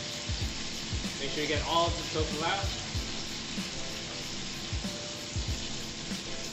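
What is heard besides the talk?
tofu sizzling as it fries in hot oil in a pan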